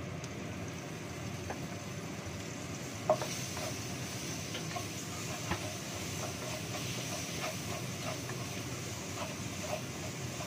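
Ground spice paste stir-frying in a pan for tofu and salted fish lodeh, a steady close sizzle with scattered stirring scrapes and a few soft clicks throughout, no talking.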